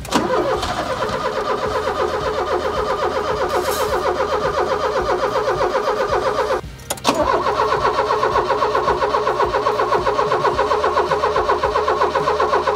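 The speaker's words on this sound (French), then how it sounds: "je vais démarrer la voiture" A Ford Taunus car engine, just fitted with a new fuel pump, cranks and catches, then settles into a loud, steady idle with a brief dip midway before running on evenly.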